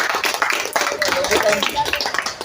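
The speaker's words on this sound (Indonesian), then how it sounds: "Ya, tepuk tangan untuk semua Regu dulu." Quiz teams at an Islamic children's quiz competition between TPA/TPQ groups are applauded, with dense clapping running under cheering and a host's talk.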